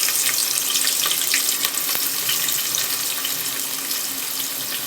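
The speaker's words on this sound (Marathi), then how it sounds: "तेल आता गरम झालंय आपलं चांगलं. आता ह्याच्यामध्ये आपण हा चिरलेला कांदा घालून घेऊया." Chopped onion hitting hot oil in a pan and frying, a loud, steady hiss and crackle that stays dense throughout with no talking over it.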